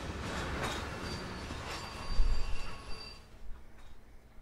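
A train in Train Sim World rumbles along with metallic squeals from the wheels, the noise fading and settling as it slows toward a stop.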